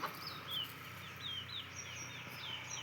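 Chickens chirp and cluck in a steady series of short, high calls over a low background hum, with no talking.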